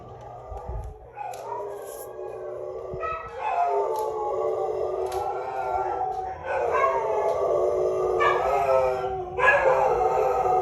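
Several dogs howl together at close range in long, rising and falling wails that overlap and swell, with a few higher yips mixed in and a brief thump near the start.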